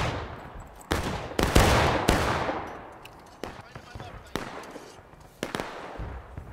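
Artillery cannon fire in War of Rights, a Civil War battle game, with several loud booming reports and long rolling echoes, one heavy blast standing out early, followed by scattered distant pops and cracks.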